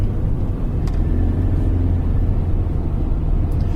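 A Corvette race car's engine and exhaust give a deep, continuous rumble at Le Mans. The tone stays loud and steady throughout, with no talk over it.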